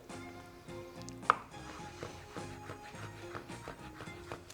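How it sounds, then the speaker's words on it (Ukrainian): A hard-boiled egg is sliced for Olivier salad, with a knife pressing through it onto a cutting board in a few soft cuts and one sharp knock, all under steady background music. "Нарізаємо яйце."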